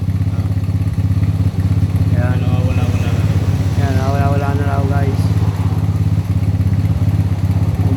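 A RUSI Swish motor scooter with a noisy engine idles with a steady, loud, low mechanical drone and rattle throughout, while someone talks over it.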